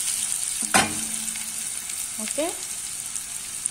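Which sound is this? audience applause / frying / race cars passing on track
frying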